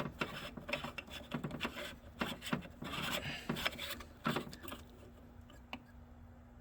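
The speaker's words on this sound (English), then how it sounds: "just unscrew it and make sure I don't drop it" An oil catch can on a 2017 Toyota Camry V6 is twisted off by hand, giving a series of short gritty rasps and scrapes in irregular bursts, close up and fading to quiet at the end.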